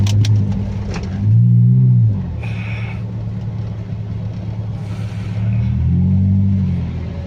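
A Toyota Corolla with its catalytic converter removed and a full exhaust revs up loudly twice, with a steady engine rumble between the two swells.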